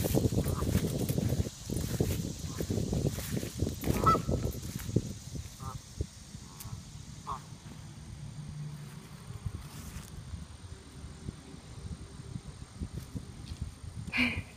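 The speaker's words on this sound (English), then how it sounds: "Oh, she just seen the geese." Geese honk faintly at a distance in a rural setting, scattered calls over a low rustling background, with brief bursts of nearby noise early on.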